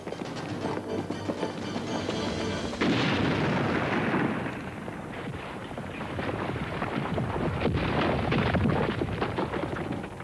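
A grenade explodes in an animated James Bond Jr. cartoon, with a heavy rumbling blast and crackling debris that roll on loudly for several seconds.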